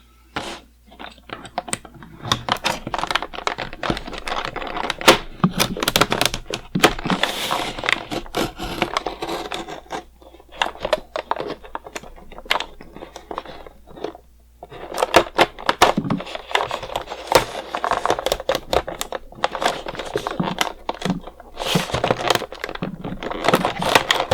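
Cardboard and plastic packaging of a G.I. Joe 50th Anniversary Hunt for Cobra Commander action figure set being torn open up close, with repeated bursts of ripping, crinkling and sharp cracks, pausing briefly partway through; no one speaks.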